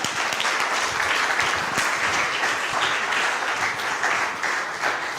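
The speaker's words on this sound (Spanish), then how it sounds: "Denle un aplauso gigante al Señor" A large church congregation claps and applauds continuously, a dense, steady roar of hands that holds at the same level throughout.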